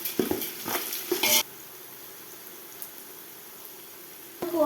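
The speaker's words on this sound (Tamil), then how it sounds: "ஆனியன் சீக்கிரம் வதங்கிறதுக்காக நான் உப்பு ஆட் பண்ணுறேன்." Onions sautéing with salt for chicken dum biryani, with a burst of stirring, clattering and sizzling at the start, then a quieter stretch before the stirring picks up again.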